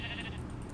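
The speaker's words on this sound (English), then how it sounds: "Oh, I smacked the black sheep." A Minecraft sheep, a black one, gives a short bleat, the synthesized game sound coming through loud and close against steady background noise.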